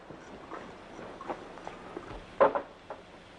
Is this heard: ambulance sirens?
no